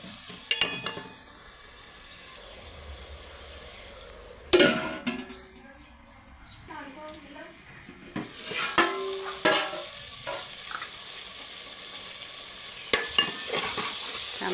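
Tomatoes cooking in oil in a pan sizzle softly at low level, with a spoon or spatula stirring and clinking against the pan in scattered bursts while a person talks.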